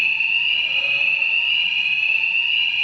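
A fire alarm sounds continuously at close range on a steady, piercing electronic tone, holding constant and loud for the full stretch with no voices over it.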